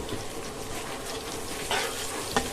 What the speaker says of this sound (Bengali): তেলে পেঁয়াজের সঙ্গে মশলাটাও ভুনাই নিব।